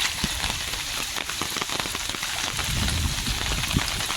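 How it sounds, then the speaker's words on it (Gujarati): Heavy rain pours down steadily, a dense hiss of drops pattering on surfaces close by, with no voices. "એટલો વરસાદ કોઈ દી નથી થયો."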